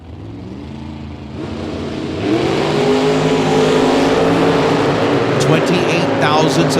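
Drag racing cars, including a Chevelle from Boise, Idaho, at a Moser Engineering Spring Fling million-dollar bracket race, with loud, sustained engine roar that swells sharply about two seconds in, as an announcer talks over it.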